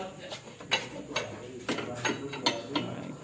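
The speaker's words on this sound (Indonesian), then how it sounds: "Dengan mengencangkan baut ini, dia otomatis akan rapat sendiri." Bolts being tightened on a tractor clutch during a clutch-lining fit, a metallic ratcheting rhythm of about seven sharp clicks at a steady pace, close and moderately loud.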